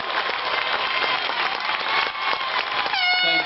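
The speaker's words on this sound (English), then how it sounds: "give him a round of applause." A crowd at a high school class of 2009 graduation ceremony breaks into sustained applause, dense steady clapping filling the hall, with a voice starting to speak near the end.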